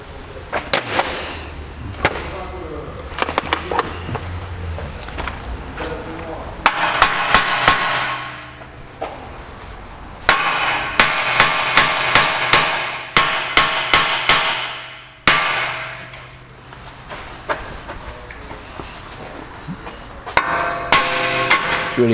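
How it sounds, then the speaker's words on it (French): A hammer strikes a suspension arm ball joint on a BMW X5 during a suspension arm replacement, delivering repeated sharp metallic blows in irregular bursts, some rapid, loud and close, with short pauses between volleys. "je vais essayer de le faire venir au marteau"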